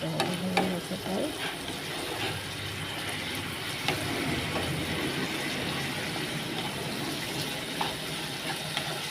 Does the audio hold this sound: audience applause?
no